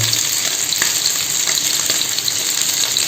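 Ginger and cinnamon crackle and sizzle steadily in hot oil, a close, continuous frying hiss with small pops scattered throughout.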